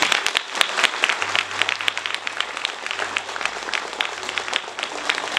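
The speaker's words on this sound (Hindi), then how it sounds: "तालियां बजाएंगे।" Congregation clapping during a church sermon, dense steady applause from a crowd that holds at a fairly even level for several seconds.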